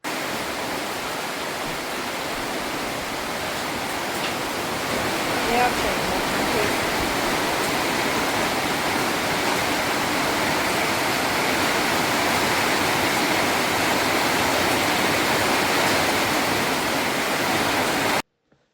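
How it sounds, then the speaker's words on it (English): Heavy rain pours down on a river in Borneo in a dense, steady roar that stays loud and unbroken, then cuts off abruptly at the end. "So that was the downpour."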